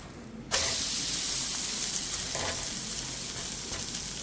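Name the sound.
crab frying in pan, flipped over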